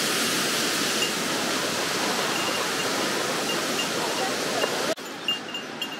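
A waterfall in the Yokoya gorge along the Shibukawa river walking trail, where falling water feeds a weir, gives a steady, close rushing roar that cuts off abruptly near the end, leaving quieter ambience.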